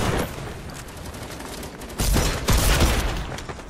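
A mammoth pistol firing in a multiplayer video game: a dense run of gunshots, with louder, punchier blasts in the second half and no talking.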